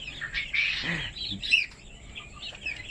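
Black chickens on a Thai backyard poultry farm cluck and squawk in a brief cluster of calls, moderately close, with softer chirps trailing off afterward.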